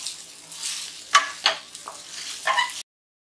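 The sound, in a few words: sago being mixed in a hot pan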